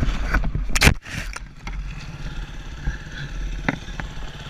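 An off-road trail motorcycle on a green-laning trip in Wales around Barmouth, its engine revving sharply near the start, then settling into a rough, close idle with a few scrapes and knocks.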